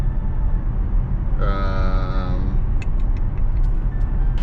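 A Tesla on Full Self Driving Beta cruises down a highway, steady road and tire rumble filling the cabin, with a brief rising whine partway through and a few light clicks near the end.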